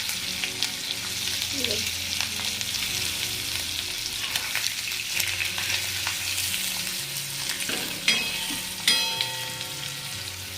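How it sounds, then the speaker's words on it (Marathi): Surmai (kingfish) pieces fry in an iron pan, turned over as they crisp, giving a steady, close sizzle with occasional scraping and clinks from the utensil. "मस्त फ्राय होऊन द्यायचे आणि असे कुरकुरे होईपर्यंत छान असे एकदम"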